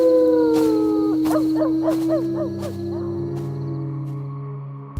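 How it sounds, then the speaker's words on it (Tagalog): A dog howls continuously at night in a rural house setting, long wavering wails rising and falling, loud and close, with a second voice-like tone beneath it and no talk. "Patuloy ang alulong ng aso."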